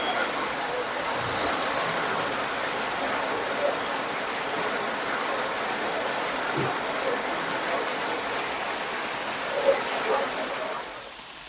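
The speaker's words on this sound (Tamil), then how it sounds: "மாலையில் குளிர்ந்த காற்றுடன் கனமழை பெய்தது" Heavy summer rain with a cool evening wind in Theni district, Tamil Nadu, a steady broad hiss of falling water that runs throughout with slight swells and no clear voices.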